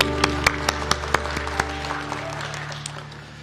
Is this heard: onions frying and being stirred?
no